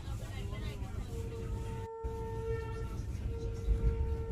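A train rumbles along with a steady low roar and a sustained horn-like whine, interrupted by a brief cut; a person talks underneath.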